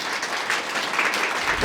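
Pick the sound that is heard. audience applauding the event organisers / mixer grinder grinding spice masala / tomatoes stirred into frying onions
audience applauding the event organisers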